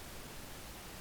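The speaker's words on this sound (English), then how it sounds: "I've assigned my pink noise sample to it." A pink noise sample played from a drum pad on an Akai MPC One, a steady broadband hiss that holds at an even level for about a second, alone with no talking.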